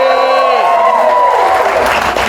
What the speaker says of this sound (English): Give me a cheer if you did that.